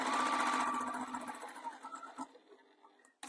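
A sewing machine stitches a faux leather bag, whirring steadily at first, then slowing into softer uneven bursts before stopping, with a sudden thump at the very end.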